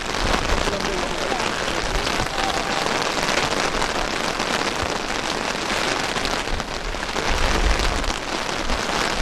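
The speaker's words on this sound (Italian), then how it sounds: "Piove al Maro Simone, altro nome dello stadio." Steady, dense autumn rain pours over a football stadium during a youth match, a continuous close hiss of drops on surfaces that never lets up, with no voices.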